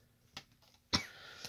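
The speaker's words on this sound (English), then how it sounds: "That was actually coughing." A person coughs in a short indoor moment, with a faint first cough followed by a louder, sharper cough close by and a small trailing one.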